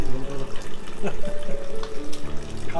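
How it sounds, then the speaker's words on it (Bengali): Running tap water splashes steadily over fish and taro root in a sink as they are washed for a Bengali fish curry, with voices talking over the flow. "মাছ আর কচু ভালো করে ধুয়ে নেবো"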